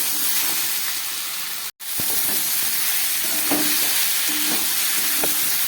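Vegetables frying in a pan with ground cumin, coriander and ginger paste for a Bengali labra curry, giving a steady loud sizzle with a brief cut near two seconds and occasional stirring scrapes.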